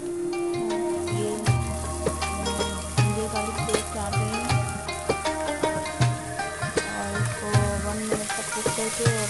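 Half a kilo of chicken mince frying in a pan with ginger garlic paste and tomato paste, a steady loud sizzle broken by repeated stirring scrapes and knocks.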